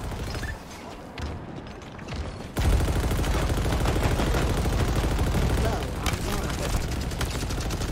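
Rapid video game gunfire rattles loud and steady through most of the stretch, with a dense sustained burst starting a few seconds in, set against background voices talking over the action.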